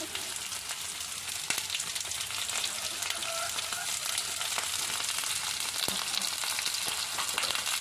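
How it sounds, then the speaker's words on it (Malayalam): Shallots, curry leaves and green chilies fry in a pan, giving a steady, fairly quiet hiss of hot oil with occasional soft clicks of stirring. "നമുക്ക് ഇളക്കി കൊടുക്കാം"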